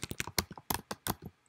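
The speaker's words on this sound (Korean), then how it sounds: "오늘 타이핑이 제대로 안 되고 있네" A computer keyboard clatters through a quick burst of keystrokes, about a dozen soft, uneven taps close by, with no other sound.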